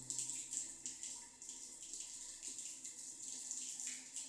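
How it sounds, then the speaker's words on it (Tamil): Hot water streams steadily from a tap, a continuous hissing splash with slight pulsing, fairly close and alone. "தண்ணிலாம் சுட சுட சுட வருது தண்ணியெலாம்."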